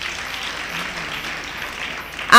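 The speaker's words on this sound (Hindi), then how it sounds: "तो एक बार तालियां बजा दीजिए।" Audience clapping at a Hindi poetry gathering, a soft, even spread of applause from the crowd that continues steadily before a sudden loud burst cuts in at the end.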